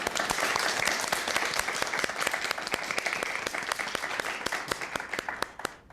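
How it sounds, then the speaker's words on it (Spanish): Audience applause for a church music ministry group at a feast-day gathering, dense steady clapping from a crowd that holds throughout and fades slightly at the end. "Un aplauso para ellos, por favor."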